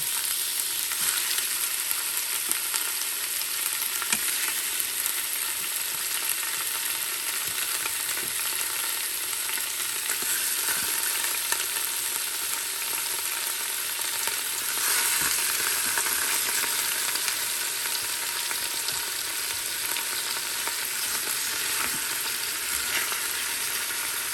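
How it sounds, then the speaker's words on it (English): Pork browns in a single layer on the bottom of an Instant Pot, giving a steady, dense sizzle and crackle of frying meat that continues evenly throughout. "we're going to put a single layer on the bottom of the Instant Pot"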